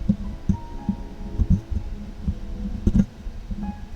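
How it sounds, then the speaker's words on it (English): Rustling handling noise from a microphone being tightened, a run of dull low thumps and knocks at uneven intervals, close and fairly quiet, with no talking. "Sorry, tightening the mic."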